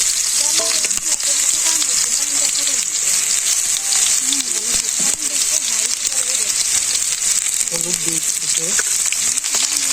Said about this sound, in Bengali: এই কড়াইতে তেল দিয়ে দিছে মানে আলুটা দিয়ে দিব ভাজবো